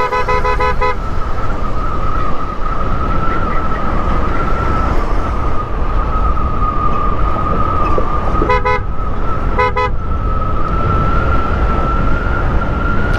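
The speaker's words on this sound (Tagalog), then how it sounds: "Nagpalit tayo ng busina kasi yung stock na busina natin medyo maliit" A loud, steady aftermarket replacement car horn blares almost continuously over road noise in Ilocos Sur, broken by a few short honks and beeps.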